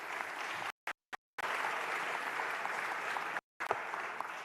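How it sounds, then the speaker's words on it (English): Audience applause fills a town hall meeting, a steady dense clapping from a crowd that stays loud and even, broken by a few short abrupt dropouts into silence. "Please give yourselves a round of applause."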